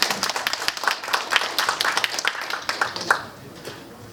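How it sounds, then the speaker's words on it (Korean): Applause from a modest lecture-hall audience at an executive leadership academy welcoming a guest art professor, individual claps distinct and fairly loud, tapering off after about three seconds into near quiet. "뜨거운 박수 부탁드립니다."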